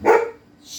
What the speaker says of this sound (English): Sorry about my dog. She's barking at the other dog.